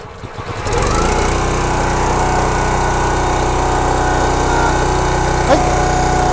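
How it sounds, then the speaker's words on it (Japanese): A small log splitter engine sputters and catches after a second, then runs at a loud, steady idle with a constant drone. "じゃあ、エンジン始動します。"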